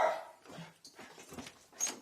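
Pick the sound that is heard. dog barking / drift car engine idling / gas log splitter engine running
dog barking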